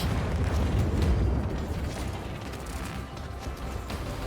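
An explosion rumbles in the mech video game Steel Hunters, a dense, loud, low booming roar that swells early and then churns on with crackling debris-like bursts, with no speech over it.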